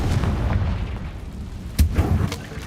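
A Confringo spell blast goes off in a wizarding video game, a deep rumbling boom with a sharp crack near the middle over a low continuous roar.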